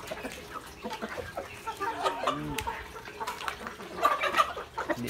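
Backyard native chickens cluck near the microphone in short, irregular bursts, with faint talk mixed in.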